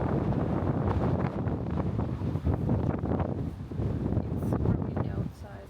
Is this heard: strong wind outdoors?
yes